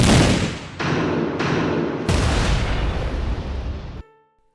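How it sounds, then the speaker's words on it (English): A rifle-shot sound effect gives loud, booming, rumbling blasts in three overlapping bursts, each with a long roaring tail, then a fast cutoff into near silence. "because this one sounds like a rifle shot"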